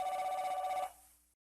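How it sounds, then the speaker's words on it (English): An old cordless phone on an end table rings loudly in a rapid warbling electronic trill, steady for most of a second before cutting off and trailing into a short decay, with no voices. "He lowered his iPhone and stared at the old cordless phone as it rang on the end table."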